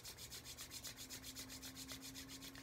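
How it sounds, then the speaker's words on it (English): Palms rubbing together briskly at the close of a Kundalini yoga exercise, a soft, even swishing that repeats in a steady quick rhythm, close and quiet, with no talk. "So, rub the hands together."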